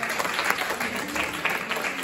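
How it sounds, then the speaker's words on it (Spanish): An audience at a press conference claps together in a steady, dense burst of applause, fairly close and unbroken. "Les damos un aplauso para Andrea."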